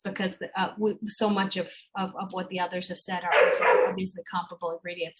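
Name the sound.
dog barking in the background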